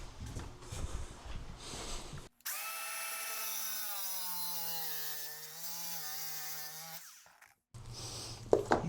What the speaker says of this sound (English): I'm just going to cut it with the grinder.